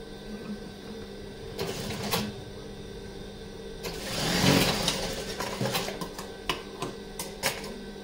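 A sewing machine joins two frills on a petticoat with a lock stitch, whirring steadily at a low level with a louder burst of running midway and small clicks and knocks around it.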